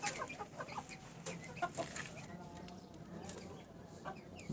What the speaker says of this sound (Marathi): ही वाली काडीवाली कोंबडी झाली आहे कुडक